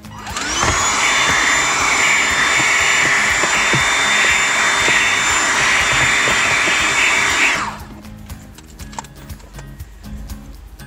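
Gtech Multi handheld vacuum cleaning a car, its high motor whine running loud and steady for several seconds, then cutting off, leaving scattered clicks and small handling knocks.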